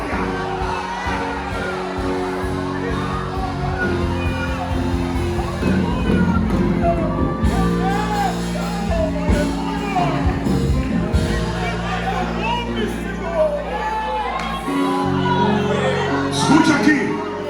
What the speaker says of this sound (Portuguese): Solta o grito de glória